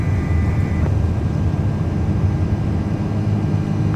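A Delta A330 jet airliner powering up for takeoff in the flight simulator MSFS 2024, a steady, loud, broadband engine roar and rumble that holds evenly throughout, without speech.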